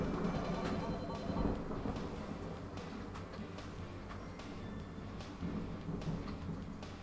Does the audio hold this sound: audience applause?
no